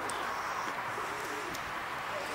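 Soft cooing of racing pigeons arriving after a race flight, over a hissy background, brief low calls repeating faintly through the short stretch.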